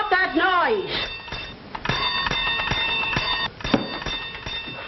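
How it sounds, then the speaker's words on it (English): A bell rings steadily and loudly, like an old alarm clock, with a sustained metallic ring and a voice speaking over it from start to finish. "Oh, stop ringing that bell."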